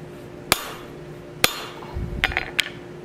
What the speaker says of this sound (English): You want to hit just off center with the radius of the ball on the ball peen hammer you're using or the ball fuller.